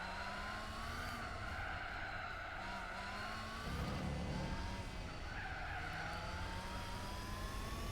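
Race car engines roar continuously in Gran Turismo 4 during a GT World Championship race, pitch climbing and dropping through gear shifts as several cars run close, with a skid or tire scrub in the middle and no voices.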